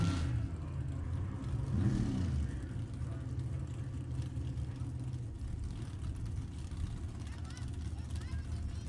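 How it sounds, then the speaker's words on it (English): A 1968 Camaro drag car with a 572 cubic inch Chevy engine runs at a drag strip, a steady heavy engine rumble that holds loud throughout with a brief swell near the start, with a voice talking over it. "Brian's got a 572 cubic inch Chevy motor in that Camaro."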